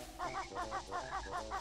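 Birds in Banjo-Kazooie give a quick run of nasal, goose-like honks, about eight repeated calls in under two seconds, close and fairly loud over a low background hum.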